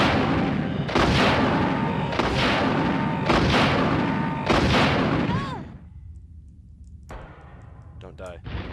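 Gunshots in the video game Resident Evil 2, four heavy, booming blasts about a second apart and loud and close, followed by quieter clicks and clatter after a short lull.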